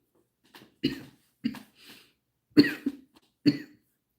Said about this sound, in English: I breathe weird and then I cough.